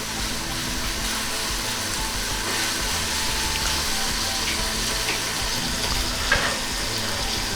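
Onions fry in oil for bagara rice, a steady dense sizzle with soft stirring scrapes running unbroken throughout, close and fairly loud, with no talking.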